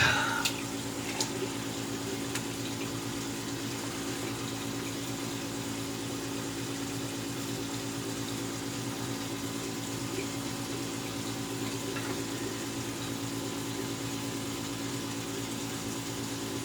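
Water runs steadily while rinsing a face after shaving, with a constant humming, pump-like drone continuing unchanged for the whole stretch and no talking.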